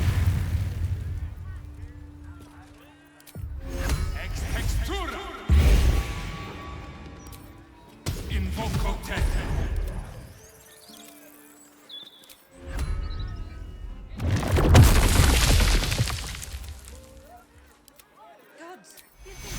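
Fire spell explosions in Baldur's Gate 3 boom out in several loud, roaring bursts with rumbling tails, separated by quieter gaps with game sounds.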